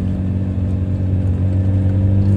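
A car engine accelerates steadily in second gear while climbing a hill, a loud, close, continuous hum with a low throbbing tone and no talking.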